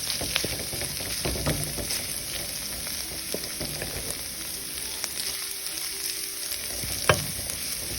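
Onion sautéing with a pinch of salt in a pan for ridge gourd coconut milk gravy: a soft, continuous sizzle with repeated spatula scrapes and stirring clicks, close and fairly quiet, no voices.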